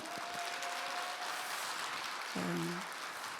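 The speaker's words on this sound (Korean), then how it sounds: "박수 한번 드릴까요?" Audience applause at a 2025 childcare-sector merit award ceremony: a steady, fairly close wash of clapping throughout, joined near the end by a brief tonal sound, with no speech.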